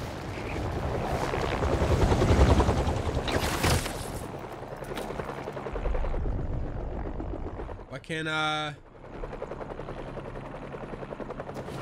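A helicopter in the PS5 game Spider-Man 2 drones with a low pulsing rotor beat, layered with game effects and bursts of noise while a player talks over it.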